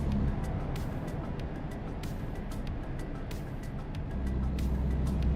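Simulated truck pulling a long trailer in American Truck Simulator, a steady low engine drone with rolling road noise throughout, swelling slightly louder near the end, with no talk.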